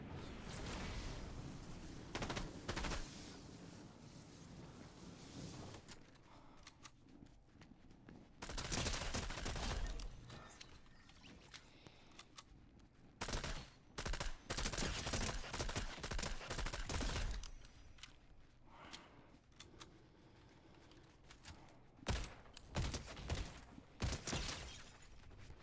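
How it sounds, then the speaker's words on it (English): Bursts of gunfire from the video game Fortnite, rapid fusillades and repeated shots clustering in dense volleys with brief lulls between them, loud and close throughout. "I hear shots."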